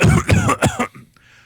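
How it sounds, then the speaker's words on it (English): A single loud, close throat clearing, a few rough guttural bursts that trail off quickly into quiet. "That was more of a throat clear."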